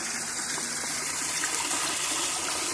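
Water gushes steadily from a campground faucet, a continuous broadband rush at low level with no voices.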